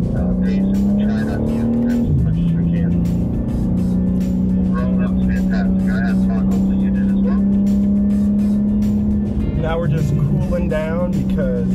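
A 2024 BMW M3 CS drives hard on a race track, its engine droning loudly and steadily from inside the cabin, dipping briefly with a shift, while a driver talks over it.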